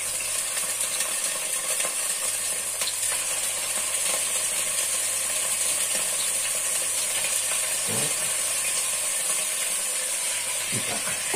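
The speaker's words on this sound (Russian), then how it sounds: "масло у нас нагрелось, и теперь мы положим сюда курицу" Marinated chicken legs, Cuban style, frying in hot oil in a pan: a constant close sizzle and crackle with a few clinks and scrapes.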